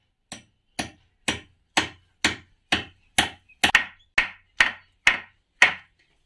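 A hammer drives a nail into bamboo during repairs to a broken house, twelve sharp evenly spaced knocks about half a second apart, close and loud with nothing else heard.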